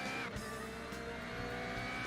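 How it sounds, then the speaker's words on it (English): A Ferrari 288 GTO race car, fitted with a turbo, roars steadily through a racing video game, its engine droning loud and continuous with a brief tire squeal near the start and no talk. "it's a 288 GTO race car"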